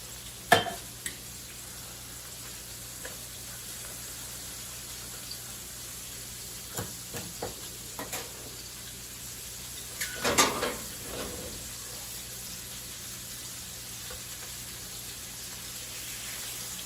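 Salt-and-pepper-seasoned chicken thighs fry in a pan with a faint, steady sizzle, broken by a few scattered clinks and scrapes of utensils against the cookware.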